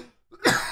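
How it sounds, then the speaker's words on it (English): A single short, sharp cough close to the microphone follows a brief throat sound, with no speech. "I never really cough on the show."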